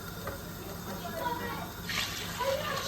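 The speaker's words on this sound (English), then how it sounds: "Now I'm going to add more water." Water poured from glasses into a cooking pot of soaked rice for chicken pulao, a splashing pour that swells toward the end while a person talks over it.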